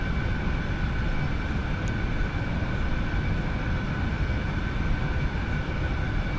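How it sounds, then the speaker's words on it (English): Twin jet engines of an AeroBask Eclipse 550 run in X-Plane 11, a steady, even roar with a faint high whine held at constant loudness throughout. "And we've got the engines going here"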